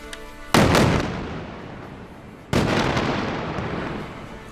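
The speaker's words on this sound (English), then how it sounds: "missile struck the building" Two heavy blasts from an Israeli missile strike on an office building housing news media offices, each a sudden loud boom with a long rumbling decay, about two seconds apart.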